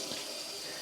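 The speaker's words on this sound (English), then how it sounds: "This is just cold tap water at the moment." Cold water runs steadily from a tap into a sink for washing freshly dyed yarn, a close, continuous hiss and splash with no talking.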